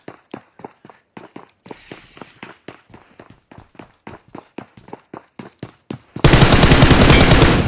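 Gunfire in the PUBG Mobile battle royale game: a long run of sharp, evenly spaced single shots, then a sudden loud burst of continuous automatic fire close by.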